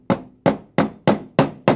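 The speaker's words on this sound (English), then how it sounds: "gently tap it over until you get the bend you want" A hammer strikes the handle of a flat-blade screwdriver set in a bending groove to bend a Pinewood Derby car axle, giving six sharp, evenly spaced metallic taps close by with no talking.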